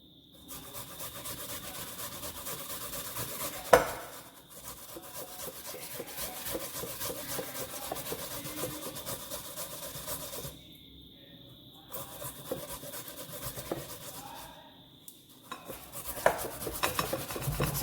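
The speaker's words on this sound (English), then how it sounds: "So I'm grating my last piece of yam now." Yam being grated by hand on a metal grater, a close run of scraping rasps with a brief clack and two short pauses, moderately quiet with no talk.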